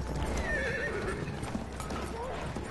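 Battlefield 1 war game horse galloping with steady hoof clip-clops and a neigh, under the rumble of battle and a player talking over it.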